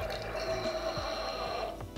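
Wine poured through a wine aerator, a continuous gurgling, liquid rush with a steady low moaning drone running for about two seconds, ending in a louder splash or clunk at the close.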